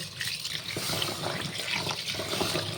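Water runs steadily into a container to soak two kilograms of rice in a home kitchen, a continuous splashing pour that stays moderately loud throughout.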